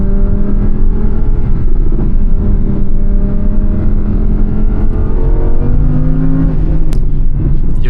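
A V10 supercar accelerates hard along a forest road, its engine a loud, steady roar heard from inside the car, with rising pitch as it gains speed and a gear change near the end.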